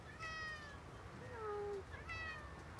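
A domestic cat meows repeatedly for food, two drawn-out, rising and falling calls close to the listener over a low, steady hum of background noise.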